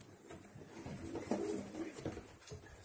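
Nikolaev pigeons coo softly at close range, a few low throaty calls in the middle against faint room noise and scattered rustles, with no talk.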